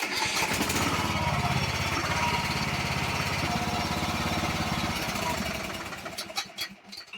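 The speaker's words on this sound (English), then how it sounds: "start the engine and idle it for a few minutes" A lawn tractor's Kohler Courage engine idles with a steady, throbbing chug, close and loud, then fades and sputters toward the end.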